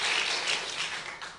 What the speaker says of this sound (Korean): 한번 박수를 한번 힘차게 막 쳐주시기 바랍니다